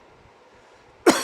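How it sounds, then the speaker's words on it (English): A single loud, sharp cough bursts out close by after a second of quiet, with a short rasping tail, from a cyclist breathing hard during a Zwift virtual bike race. "haven't coughed like this in a long time"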